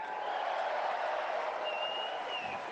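A rally crowd in Nanoose Bay, B.C., applauds and cheers in a dense, sustained wash of clapping and voices, with a thin whistle rising near the end.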